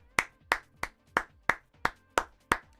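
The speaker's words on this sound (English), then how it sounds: "Give them a round of applause." A slow, steady run of about eight sharp hand claps, evenly spaced and close, with nothing else beneath them, greeting Team Empire as winners at the PFL Europe FC25 Clubs Season 2 finale.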